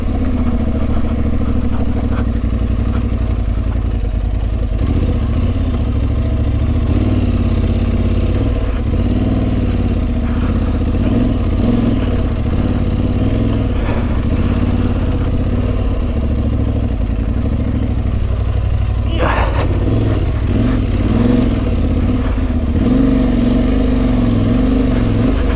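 A KTM Freeride 350 dirt bike ridden slowly along a trail, its single-cylinder engine a loud, steady drone at low pace with small throttle changes and occasional clatter throughout.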